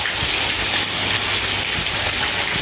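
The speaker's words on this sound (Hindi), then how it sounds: "तो बहुत अच्छी मज़ेदार बारिश हो रही है, बादल भी साथ में गरज रहे हैं" Heavy rain pours down in the middle of the night during a thunderstorm, a loud, dense, unbroken hiss of drops on surfaces close by, with no voices.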